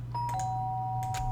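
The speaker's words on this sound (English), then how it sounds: "sharp sound of the doorbell pierced my sleepy haze and pulled me back to the real world" A two-tone electronic doorbell chime in the Danganronpa video game rings twice in quick succession, clear and fairly faint over a low background hum.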